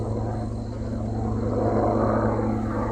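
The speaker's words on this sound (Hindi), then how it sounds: "ये आवाज़ ऊपर से जब हेलीकॉप्टर की आई" A helicopter passes overhead above a forest, its rotor giving a loud, steady, throbbing drone that swells slightly and carries on without any voices.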